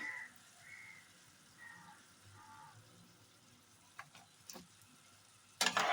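Prawn malai curry being stirred in a pan after garam masala powder and mustard oil go in; a faint, steady sizzle runs throughout with scattered spoon clicks and a louder scraping burst at the end.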